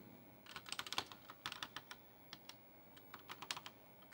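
Keys clatter on an Apple IIe computer keyboard as a program is typed in, quick irregular bursts of crisp clicks with brief pauses, close but fairly quiet, with no talking.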